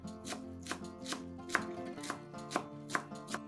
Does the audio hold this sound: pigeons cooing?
no